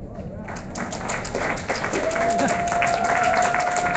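Audience at a Bakken pipeline public hearing breaking into clapping that swells and holds steady, mixed with murmuring voices and a faint high tone.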